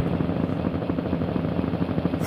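A helicopter's rotor thumps in a steady, rapid rhythm, loud and close, with the engine droning continuously throughout a dramatic film scene.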